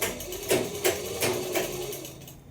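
A sewing machine stitches a gently curving pajama seam, its needle running in a steady series of short mechanical bursts, close and moderately loud.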